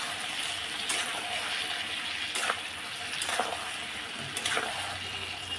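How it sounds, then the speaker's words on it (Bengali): Ridge gourd, potato and poppy seed paste fry in a pan, giving a steady soft sizzle with a few louder scraping bursts as the mix is stirred at intervals, close and without talk. "পোস্ত বাটাটাও দিয়ে দিলাম। এবার একটু নাড়াচাড়া দেবো।"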